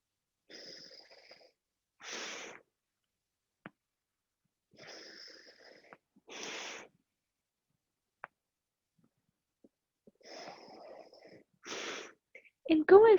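Slow deep breaths during a breathing exercise session, alternating long drawn inhales and exhales repeated three times, close and airy with silent gaps between, plus a faint click or two.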